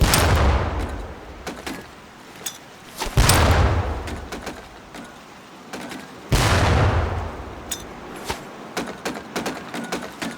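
Training grenades blasting beside target barrels at a boot-camp range in Medal of Honor Pacific Assault, three heavy booms a few seconds apart, each trailing a rumbling tail, with sharp clicks and small crackles scattered between.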